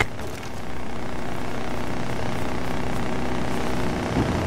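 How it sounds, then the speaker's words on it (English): An in-game helicopter gives off a steady whirring rotor drone with a continuous, moderately loud, slightly throbbing texture. It holds even throughout, with a brief blip near the end. "Helicopter?"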